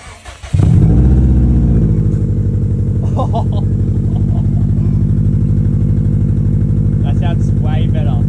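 Subaru STI engine idling with a loud, deep exhaust, starting abruptly after a brief moment and then holding a steady rumble, with short bursts of speech from people nearby over the engine.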